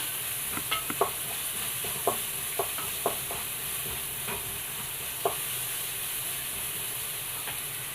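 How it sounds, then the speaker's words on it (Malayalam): Ingredients sauté in a pan for a Kerala chickpea curry, with a steady hissing sizzle underneath and a scattering of crisp spatula clicks and scrapes, close and without voices. "ഒന്ന് നന്നായിട്ടൊന്ന് വഴണ്ട് വരട്ടെ വേഗം മൂത്ത് വരും"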